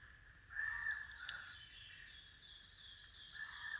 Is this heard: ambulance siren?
no